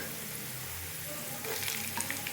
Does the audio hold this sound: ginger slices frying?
yes